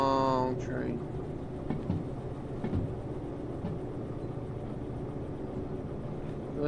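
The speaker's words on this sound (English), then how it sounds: "Look at that long train." A long freight train rolls along the track in the Derail Valley train game, a steady low rumble with rhythmic clanking of wheels and cars over a continuous engine drone.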